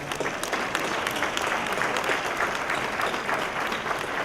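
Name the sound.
audience applause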